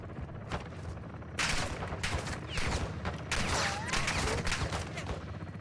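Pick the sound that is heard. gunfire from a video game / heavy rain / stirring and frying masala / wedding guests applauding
gunfire from a video game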